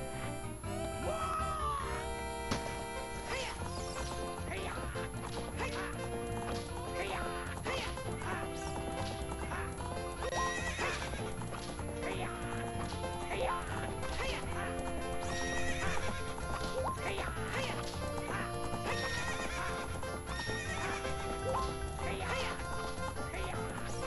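In the Zelda Ocarina of Time video game, a horse's hooves clip-clop at a steady gallop and it neighs, loud and continuous over game music.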